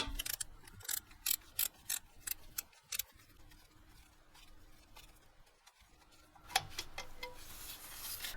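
Removing the bottom 12mm alternator mounting bolt on a 2005 Nissan VQ40 engine: a close, rhythmic run of sharp ratchet clicks, then softer scraping and handling noises.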